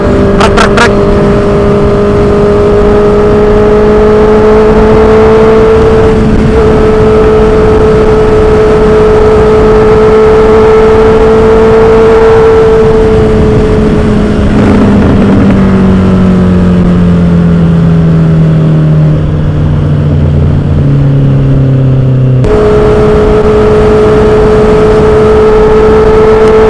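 Honda CB650R-E motorcycle riding along a road, its engine droning loudly and steadily up close with pitch shifts as it revs and changes gear, wind and road noise underneath.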